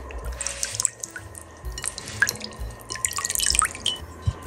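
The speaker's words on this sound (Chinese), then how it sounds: "我们把大骨头控水捞出来" Water drips and trickles from soaked pork bones as they are lifted out and drained in a kitchen, irregular close splashes and droplets with a few small clatters, no voices.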